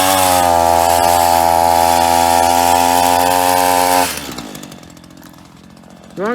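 A chainsaw runs at a steady, loud high idle for about four seconds, then drops off into lower, rougher sputtering before a brief final rev.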